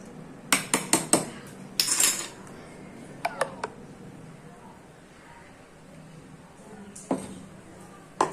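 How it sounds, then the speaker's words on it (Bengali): A spoon stirs a mango and yogurt mixture in a pot, giving a few sharp metallic clinks in small clusters with quiet gaps between them, close and fairly soft over a low room hum. "মিক্সচারটা খুব ভালো করে নাড়াতে হবে"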